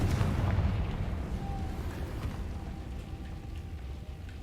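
Confringo fire spell explosion in the Hogwarts Legacy video game: a heavy, rumbling blast that is loudest at the start and then trails off into a long, low, roaring decay, with no talking.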